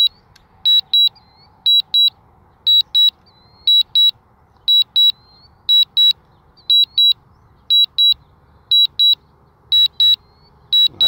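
DJI Mavic Air drone sounding its low battery warning at 20 percent during a long-range flight: clear, loud paired electronic beeps repeating at a steady rhythm over faint background hiss.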